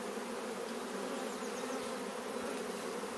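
A dense, steady buzz of many honey bees swarming close by while being moved from a transport nucleus box into a Langstroth hive, continuous and fairly quiet with no talk.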